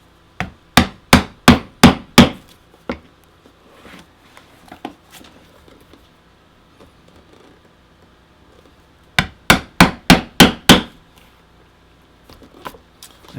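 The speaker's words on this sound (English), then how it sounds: "So let's punch holes for these and get our rivets in" Holes are punched in soft leather for antique brass rivets. Two rapid bursts of about six sharp, loud strikes each ring out close by, separated by scattered quieter taps and handling noises.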